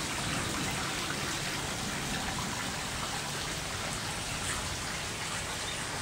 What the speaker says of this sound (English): It's actually very beautiful when it rains.